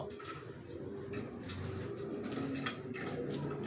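Racer pigeons coo and call, their soft low murmuring rolling continuously at close range over a steady, faint background hum.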